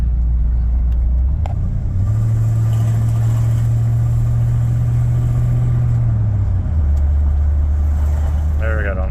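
A Chevrolet squarebody truck pulls away under hard throttle, its steady low engine rumble rising as it climbs through the gears, with audible shifts stepping the drone up and back down, loud and close throughout.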